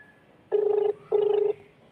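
Ringback tone of an unanswered phone call: two identical buzzing rings, each under half a second, separated by a short pause, clear and alone.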